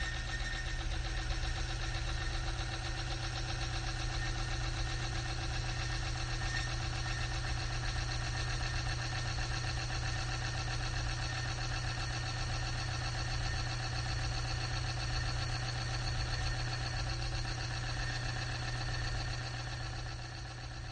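A friction test machine runs steadily with its rotating cylinder saturated in lubricant, a constant loud mechanical hum and whirr that holds unchanged throughout.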